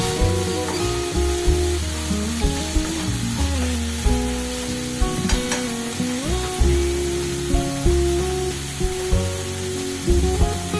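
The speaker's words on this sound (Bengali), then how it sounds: "এবার এখানে একটু টমেটোর পেস্ট দিচ্ছি, সামান্য টমেটোর পেস্ট দিচ্ছি। আবার সব নাড়াচাড়া করে দিলাম।" Tomato paste sizzles and fries in a pan while being stirred into a curd-prawn dish, a steady crackling hiss with soft scraping strokes beneath a sustained tonal background.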